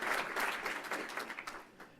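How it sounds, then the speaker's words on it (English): Brief, faint round of applause from an audience at an economic forecast luncheon for a leadership class, scattered clapping that fades within two seconds. "if you'd give them a round of applause"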